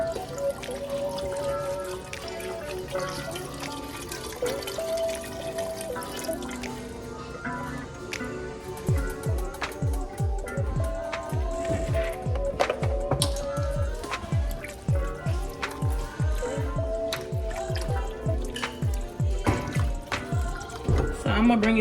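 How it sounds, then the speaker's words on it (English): Beef broth poured into a pot for yakamein, first a soft running trickle, then a long stretch of splashing and dripping. "So now we're gonna go in with our beef broth. And you're gonna pour it into the pot"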